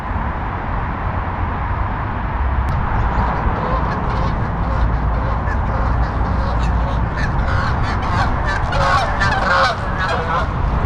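Geese honking loudly and repeatedly beside a New Jersey pond in late winter, a dense chorus of overlapping calls that thickens toward the end over steady outdoor background noise.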